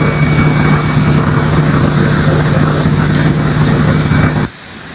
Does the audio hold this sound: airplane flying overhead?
yes